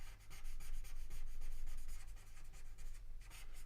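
A pencil stroking steadily across paper in a quick, rhythmic back-and-forth scratch while shading a drawing of a tree, close and continuous with no talk.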